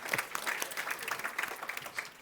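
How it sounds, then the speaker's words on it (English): Audience members at a Victims of Communism panel keep clapping for the panelists, a short burst of moderately loud, fairly even applause from many hands. "We're clapping at you."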